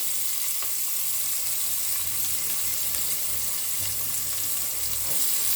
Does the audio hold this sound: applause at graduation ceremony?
no